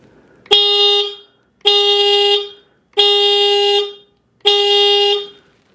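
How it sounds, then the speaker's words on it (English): A loud stock horn on a 2019 Triumph Scrambler 1200 XE motorcycle honks four times in a steady rhythm, each blast about half a second long, close by in an echoing enclosed garage. "So the first thing we'll do is test the stock horn."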